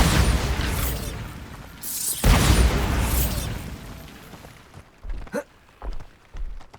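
Bombarda spell explosion in Hogwarts Legacy: two loud booming bursts with rumbling tails in close succession, followed by quieter short pops and effects as the blasts die away.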